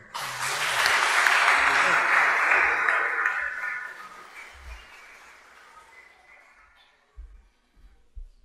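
A hall audience at a book presentation gives a round of applause to welcome the author, a dense burst of clapping that swells in, holds loud for a few seconds, then thins and fades to scattered claps and near silence.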